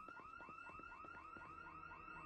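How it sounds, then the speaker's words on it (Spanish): A distant alarm wails in the zombie survival game Project Zomboid, a faint repeating electronic whoop cycling rapidly and evenly, with each rising sweep recurring about every quarter second. "Estoy escuchando una alarma lejos."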